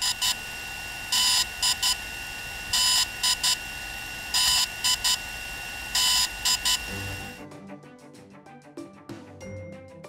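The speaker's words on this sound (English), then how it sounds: "The update is completed when the beeping noise changes and sounds like this." Bright electronic beeps from a DJI Phantom 3 drone in a repeating pattern of short bursts, loud and close, lasting several seconds before changing to a different, softer sound as the firmware update completes.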